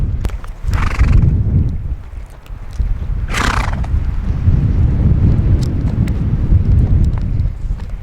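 A horse whinnies loudly twice, with hooves clopping steadily throughout and gusts of wind buffeting the microphone.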